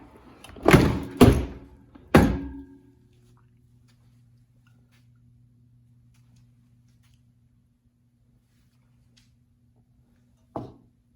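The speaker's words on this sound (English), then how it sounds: "We gotta check out this tip over, see how good that works." An oscillating dish heater is knocked over in a tip-over test, giving three loud hard thuds close together, followed by a faint hum and one last small knock near the end.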